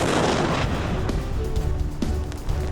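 Heavy artillery fire on a Canadian Forces range booms and rumbles continuously, with sharp blasts cutting through around one and two seconds, loud and sustained.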